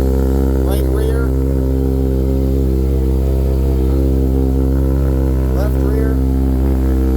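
A 2009 Kawasaki Ninja ZX-6R Monster Edition motorcycle engine idles steadily and loudly up close, with a short throttle blip rising near the end, while a voice talks briefly over it.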